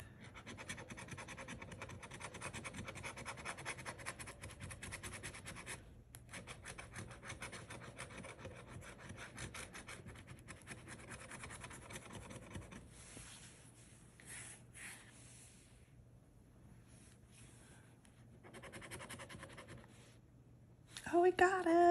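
A coin or scraper rasps steadily across a scratch-off lottery ticket, a Gold Rush Limited card, in close continuous strokes with brief pauses, ending in a louder scrape.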